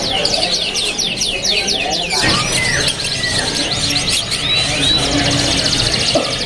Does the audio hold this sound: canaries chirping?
yes